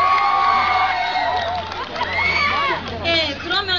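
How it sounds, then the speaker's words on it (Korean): A crowd of students at a university event in Korea cheers and shouts, with bright, excited voices rising and falling over a few seconds and some talk mixed in. "다시 한번 우리 카라에게 힘찬 박수 부탁드릴게요."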